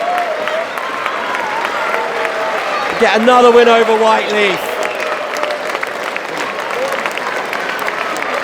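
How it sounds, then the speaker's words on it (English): Home supporters of Jersey Bulls roar and clap at the final whistle of a non-league football win over AFC Whyteleafe. Steady crowd noise fills the whole stretch, swelling briefly midway, while a commentator talks over it. "Springfield crowd erupts."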